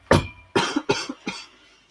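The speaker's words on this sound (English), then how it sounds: "the old man, coughing, wakes him." An old man coughs in several harsh, separate bursts, about four or five over two seconds, close and fairly loud with short pauses between.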